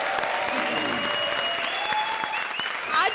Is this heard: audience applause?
yes